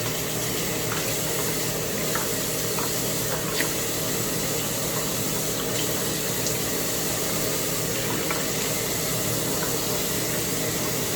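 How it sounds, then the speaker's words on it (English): Hot running water from a tap splashes steadily onto a shaving brush, a continuous close hiss and patter with no talking. "So the trick to do is you want to get your brush wet. I like to use hot water."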